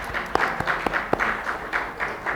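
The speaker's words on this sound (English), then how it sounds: "Je lui transmettrai vos applaudissements" Applause from a conference audience at a world congress on justice for children, a short burst of moderate clapping with a few sharp near claps standing out, no speech.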